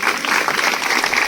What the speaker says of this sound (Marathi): तर सगळ्यांनी टाळ्या वाजवलं पाहिजे